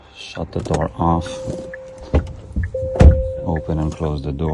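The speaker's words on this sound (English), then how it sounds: "open and close the door." Door of a 2023 Genesis G70 car opening and shutting with short thunks and latch clicks, mixed with a steady tone and someone talking throughout.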